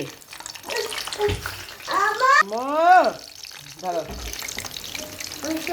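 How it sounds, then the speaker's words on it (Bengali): Frozen beef kebabs fry in a pan with a soft, steady sizzle, partly masked by a voice speaking and rising-pitched vocal sounds through the middle of the clip. "এই যে ভাজতেছি কাবাব"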